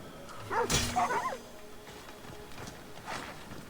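A dog in a video game barks two or three times in quick succession, loud and close, followed by softer clattering steps and faint background noise.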